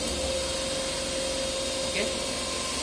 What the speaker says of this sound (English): after starting, the motor is running in no load condition